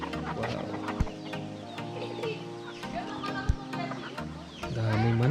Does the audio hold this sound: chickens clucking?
yes